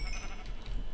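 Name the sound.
sheep bleating in Minecraft video game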